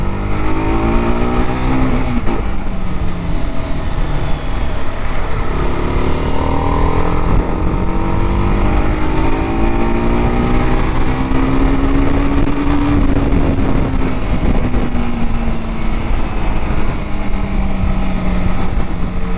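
A TVS Apache RR310 motorcycle cruises at a steady speed with cruise control on, its engine droning loudly and constantly under strong wind rush from start to finish.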